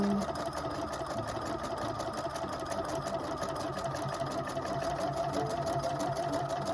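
A Husqvarna Viking #1+ sewing machine stitches an embroidery design, a continuous rapid mechanical whir and needle patter at an even pace, close and steady throughout.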